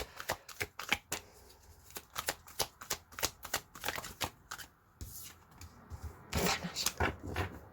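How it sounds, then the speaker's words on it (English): Tarot cards are shuffled and drawn close up, with a rapid series of crisp riffling snaps and flicks in uneven bursts and a louder flurry near the end, without any talking. "We'll pull more cards and we'll see what comes out."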